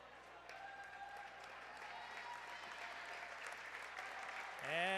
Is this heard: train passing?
no